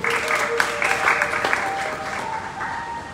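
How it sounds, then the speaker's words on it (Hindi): Audience applause at a Harikatha devotional program in Sector-7, Ambala City. Steady, close clapping fills the whole stretch, with faint tonal sound running beneath it. "ताली बजा दो।"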